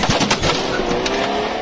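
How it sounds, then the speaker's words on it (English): Rapid bursts of gunfire crackle over a rough, noisy background, with a few sharp cracks standing out; no voices. "The sound of gunfire."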